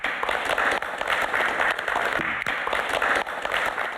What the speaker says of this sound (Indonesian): Dan biar semangat boleh kita berikan tepuk.